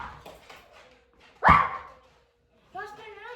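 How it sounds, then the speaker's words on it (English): Nearby dogs let out one loud, abrupt bark after some faint background noise. A person starts talking soon afterward. "I'm tired of these damn dogs barking at Girly."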